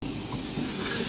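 Ten-Wheeler E-class steam locomotive no. 165 being moved through Phaya Thai, Bangkok, giving off a steady, loud broadband hiss of steam with a low rumble underneath, continuous throughout.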